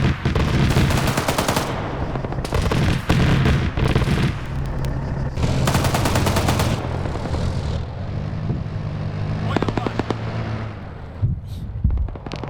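A BMP autocannon fires in a video game battle between anti-aircraft teams and air convoys, with loud rapid bursts broken by gaps and a droning aircraft engine underneath.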